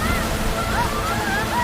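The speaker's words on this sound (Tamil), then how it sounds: "இங்க பெரிய சுனாமி வேகமா வருது." Big tsunami waves rushing water through an Indian village, a dense continuous roar and slosh, loud and close, with a faint whistling tone drifting above it.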